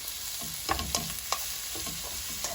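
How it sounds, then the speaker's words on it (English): Peppers and chilies stirred in a vegetable stir fry pan, a constant close sizzle with a few light spatula taps and scrapes over it. "So in will go the peppers, the chilies, give them a little stir."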